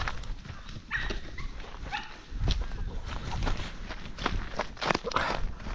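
Dogs run and scramble about outdoors, with quick scuffling footsteps and rustling at close range, moving irregularly in bursts, along with occasional faint sounds from the dogs.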